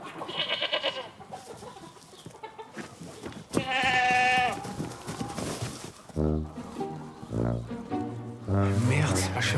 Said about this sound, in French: c'est la chèvre de la voisine